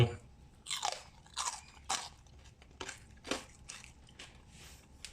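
Someone bites and chews crispy Thai pork belly skin up close. Sharp, crackling crunches repeat at an irregular rhythm, loud against a quiet background.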